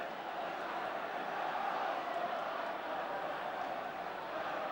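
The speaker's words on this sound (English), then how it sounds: "the crowd are loving this" A large football crowd roars and cheers at an Arsenal versus Newcastle United match, a steady, broad, distant wash of massed voices sustained throughout.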